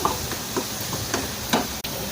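An egg fries in hot oil with a soft, continuous sizzle, broken by a few brief crackling spurts and a light scrape near the end, all fairly quiet and without speech.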